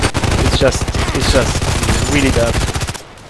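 An SKS carbine in the shooter game Contract Wars fires as rapid, evenly spaced shots in a loud continuous burst that cuts off near the end, with someone talking over it.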